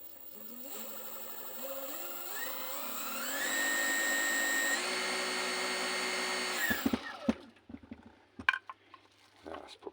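A homemade brushless DC motor converted from a car alternator runs up with a whine that rises in steps to a high, steady pitch, then shuts off abruptly, followed by scattered clunks and handling noises.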